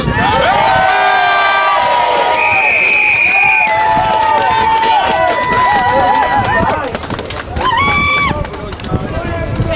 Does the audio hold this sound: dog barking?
no